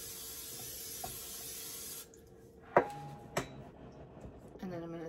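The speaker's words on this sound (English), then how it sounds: "we're just gonna spray it down with some cooking spray so it doesn't stick" Cooking spray hisses steadily from an aerosol can into a casserole dish for about two seconds, followed by a few knocks and light kitchen clatter.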